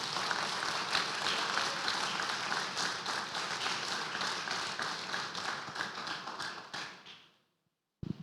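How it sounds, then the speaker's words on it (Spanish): A church congregation at a Christian service in Cienfuegos claps together in dense, sustained applause that stays even for several seconds and then fades out into silence near the end. "Denle un aplauso al Señor."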